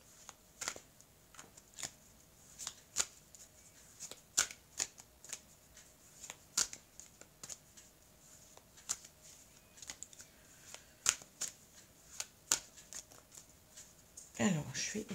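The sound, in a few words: shuffling a deck of oracle cards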